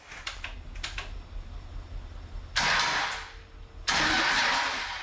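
A 600hp bus engine in a Silverado pickup cranks with brief mechanical clatter on its first start, then fires up twice in loud roaring bursts, the second catch holding and running on.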